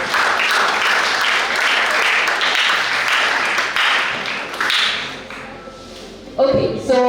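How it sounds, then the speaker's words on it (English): At a junior science and maths quiz, an audience welcomes a contestant with a big round of applause. Loud, dense clapping fills about five seconds, then thins out, and a voice starts speaking as it dies away. "let's welcome Sarah with a big round of applause"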